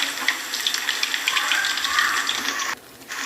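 Chicken pakoda fries in hot oil with a steady crackling hiss. The sizzle drops suddenly near the end.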